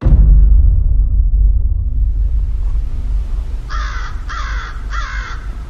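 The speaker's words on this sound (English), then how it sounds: "there is a crow way up there singing to us right now" A crow caws from high on a mountaintop, three distinct rhythmic calls in the latter half, moderately near, over steady low wind rumble and outdoor ambience.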